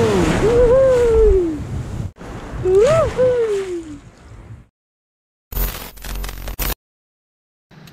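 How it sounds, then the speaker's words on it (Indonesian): Big ocean waves wash against the shore at a fishing spot, a broad roar of surf heard under a man's loud exclamations, then a short, harsh gust of noise. "besar ombaknya bro."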